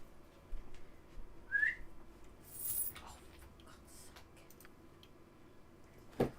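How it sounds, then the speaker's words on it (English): A short, rising whistle sounds once in Baldur's Gate to summon the dog, clear over a quiet background, with a few soft clicks before and after. "There's the whistle summoning the dog."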